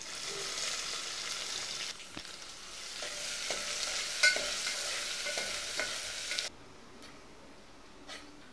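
Onions fry in a pan with cinnamon and cardamom, giving a steady hiss and sizzle broken by a few light taps of the stirring spoon, before the sizzle drops away toward the end.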